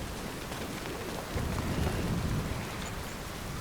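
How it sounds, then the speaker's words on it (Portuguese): Heavy rain pours in Death Stranding as a dense, steady roar of hiss and drumming drops that swells slightly midway, loud and close with no voices over it. "Eu não tô nem conseguindo ouvir meus pensamentos aqui com essa chuva de tão forte que tá."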